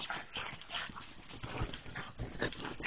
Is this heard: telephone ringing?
no